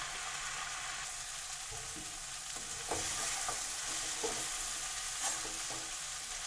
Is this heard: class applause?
no